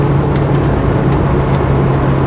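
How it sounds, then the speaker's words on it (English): The air conditioning blower fan of a 1997 Ford Mustang Cobra runs on high inside the cabin, giving a loud, steady rushing whoosh with a low, constant hum underneath. "Here, we'll turn it on high. Blower motor has a great volume of air."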